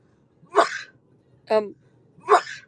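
Three short bursts close by: two sneezes separated by a brief voiced sound, in an otherwise quiet space.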